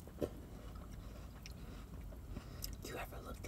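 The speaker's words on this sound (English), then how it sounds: "I feel like I got a weird chew." Close, quiet chewing of breakfast food, with soft wet bites and mouth sounds and a sharper bite near the start, heard alone without talk.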